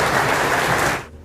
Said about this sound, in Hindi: जोर से तालियां हो जाएं।